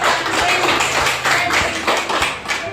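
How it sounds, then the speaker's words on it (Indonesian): Classroom applause for a student, with loud dense clapping from a group of students close by, steady for a few seconds with a faint voice mixed in. "kita berikan tepuk tangan kepada Leno"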